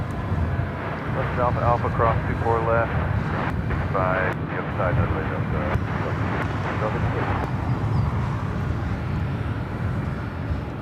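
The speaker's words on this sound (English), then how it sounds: "There's a couple of old warplanes flying above us." Steady engine roar from old warplanes flying overhead near an airport, spread broadly through the whole stretch beneath continuous air-traffic radio talk.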